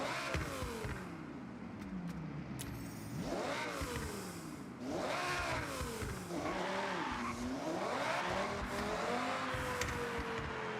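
Car engines in the Forza Horizon racing game rev loudly and continuously, with rising and falling pitch sweeps as the cars accelerate and shift gears, plus occasional tire squeal.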